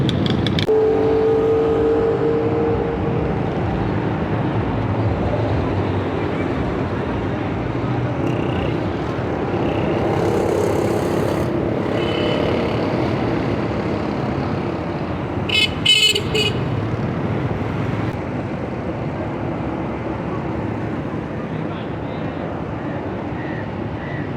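Slow street traffic crawls through a busy Karachi market, with a steady rumble of engines and a few short car horn toots scattered through it, and faint voices mixed in.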